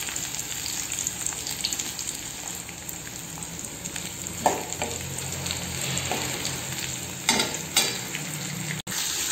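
Long sliced onions sizzle in hot oil in a pan while they are stirred for a Tamil brinjal pulikkulambu, a steady loud frying hiss broken now and then by scraping stirs and the clink of a utensil.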